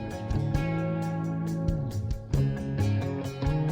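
A rock song plays steadily, with sustained guitar chords and a pulsing drum beat, full and fairly loud throughout.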